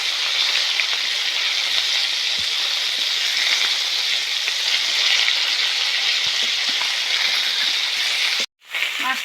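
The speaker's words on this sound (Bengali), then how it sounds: "মাছটা ভাজা হয়ে গেছে, এখন এটা তুলে নেব।" Shol fish (snakehead) frying in hot oil in a pan, a dense, even sizzling hiss holding steady throughout, ending with a short sudden break near the close.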